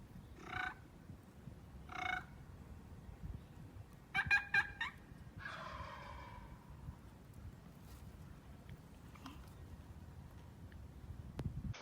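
Turkey calling sequence meant to fire up gobblers: a few short raspy yelps and clucks, then a brief cluster of sharp notes and a trailing purr, close but fairly faint over a quiet outdoor hiss.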